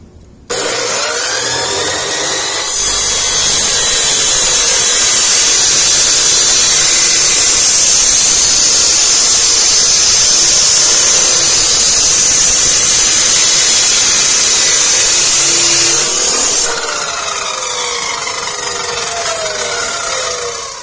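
A metal cutoff saw slices through steel tube, a loud, steady high-pitched grinding whine that holds for about fourteen seconds before the cut finishes and the motor winds down.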